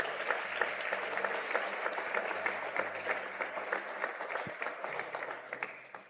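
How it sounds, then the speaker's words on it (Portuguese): Sustained applause from a church conference crowd, dense clapping throughout, fairly steady and tapering slightly at the end. "Vamos aplaudir Jesus"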